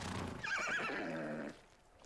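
A white horse in the Ghost of Tsushima video game lets out a single close, loud neigh with a wavering whinny lasting about a second, with faint hoof clatter around it.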